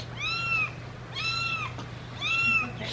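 A kitten or cat meows three times, each cry a clear arched wail spaced about a second apart, fairly close, over a steady low hum.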